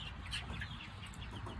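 Large fowl Cochin rooster and chickens in a farm pen, giving faint, soft clucks over a quiet background.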